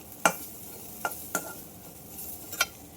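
A spoon scrapes and scoops cooked rela flower curry in a hot pan, giving four sharp metallic clinks spaced irregularly over a faint background sizzle.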